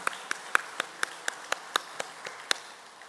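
Slow, spaced clapping from a church congregation, about a dozen sharp claps in an even rhythm, fairly faint and heard on their own.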